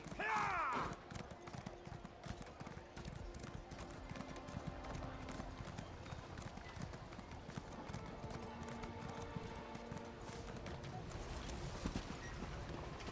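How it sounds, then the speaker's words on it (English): Rhythmic clip-clop of horse hooves in The Elder Scrolls Online video game trots steadily at a moderate pace, with a short burst of sound at the start and faint talking underneath. "jump on the horse."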